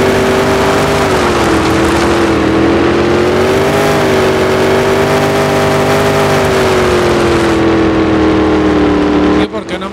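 Monster truck engines in the Monster Jam Showdown video game, a loud, sustained droning roar that dips and swells slightly, with someone talking over it.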